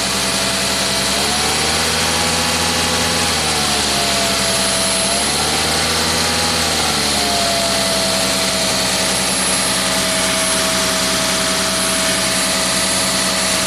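A 1990 Jaguar XJS V12 with a surging idle, a loud, close, steady engine drone whose pitch rises and falls in slow waves over the first several seconds and then holds level, no talking.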